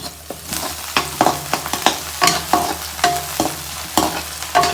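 Onion and chilli frying in oil in a home kitchen, with a steady sizzle and repeated scraping stirs of a spoon against the pan at an even rhythm, close and fairly loud, no talking.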